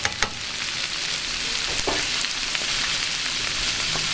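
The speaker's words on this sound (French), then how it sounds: "Vous mélangez votre brocoli, votre choucal avec la brunoise." Broccoli and cabbage tossed with finely diced brunoise vegetables in a hot frying pan, a loud, dense, steady sizzle with occasional spoon clicks and scrapes at the start and throughout.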